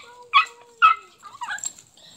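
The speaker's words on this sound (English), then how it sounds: "Guys, Pennywise dog... Guys, these guys are fighting!" Dogs fighting: a few short, sharp yips and barks, then whimpering yelps, loud and close, separated by brief quiet gaps.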